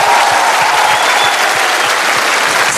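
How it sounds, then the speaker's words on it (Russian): Studio audience applauding loudly and steadily after a duet of "Не отрекаются любя" on the Russian TV show «Две звезды», dense clapping filling the whole moment with no talk. "Вам аплодисменты и браво!"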